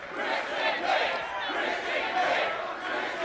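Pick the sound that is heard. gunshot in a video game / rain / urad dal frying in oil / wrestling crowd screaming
wrestling crowd screaming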